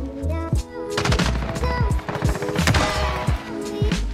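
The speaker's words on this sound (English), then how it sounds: "Where are they shooting at?" Gunfire in the Modern Warfare video game, loud rapid automatic bursts and sharp single shots cracking close by, repeating in quick succession over a continuous game-action background.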